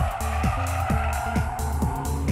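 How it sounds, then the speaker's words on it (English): A car drifting at high speed with screeching tires, a loud sustained squeal under a roaring engine whose pitch drops and climbs again in repeated shifting cycles. "The high-speed drift is composed from small counter-steering and velocity."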